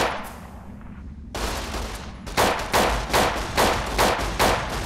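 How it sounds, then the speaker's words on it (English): Gunfire from a weapon in Fallout New Vegas: after a quiet start, a loud sustained burst gives way to a series of sharp, regularly spaced heavy shots. "That gun is so loud."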